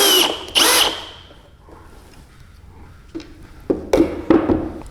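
A Bosch GSR 185-LI cordless drill/driver runs in reverse to back out a screw, giving a loud high whir that spins down, followed by several clicks and short bursts of handling.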